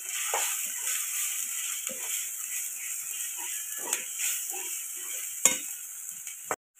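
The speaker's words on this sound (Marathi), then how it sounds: "आता वाटण सुद्धा छान असं तेलामध्ये परतून घ्यायचं" Ground masala paste fries in oil in a pan for an egg curry, giving a steady hiss with soft stirring scrapes and small bursts, ending abruptly with no talk over it.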